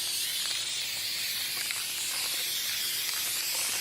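Rust-oleum spray paint hisses steadily from the can onto an aged air conditioner unit, one continuous close spray with no pauses or talk.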